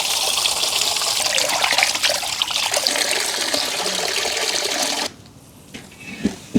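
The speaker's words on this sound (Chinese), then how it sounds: "羊排焯透水以后捞出，冲洗一下。" Blanched lamb ribs being rinsed under running water, a loud, continuous close splash and gush that stops abruptly, followed by a few faint knocks.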